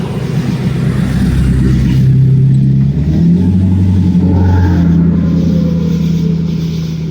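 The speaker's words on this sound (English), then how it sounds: "Yes, we're all impressed by your big truck while we're trying to sleep." A big truck's engine revving nearby at a campsite at night, a loud, deep, rumbling roar that rises in pitch, then settles into a steady idle.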